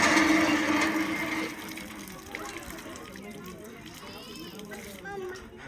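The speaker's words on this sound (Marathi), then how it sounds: "पाणी नसते वायाला घालवायचं का ओतून दिलं" Water splashes and gushes as it is poured out onto the ground, loud at first and then tapering off, with people and children talking over it.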